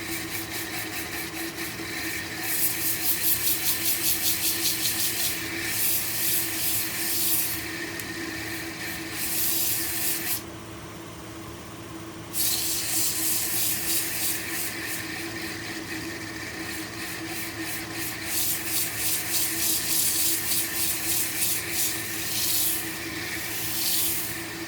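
Sanding with 60 and 100 grit sandpaper, a loud, continuous rasping hiss with rhythmic strokes that pauses briefly midway and then resumes.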